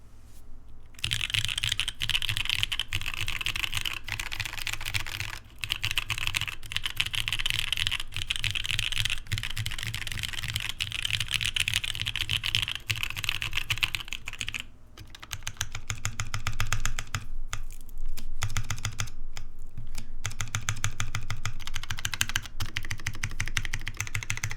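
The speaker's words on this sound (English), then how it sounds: "Sounds like a keyboard." Rapid, continuous clacking of a TGR Jane V2 mechanical keyboard's keys, close and loud, with brief pauses between bursts of typing.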